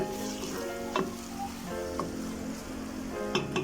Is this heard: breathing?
no